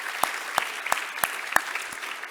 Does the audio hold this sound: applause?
yes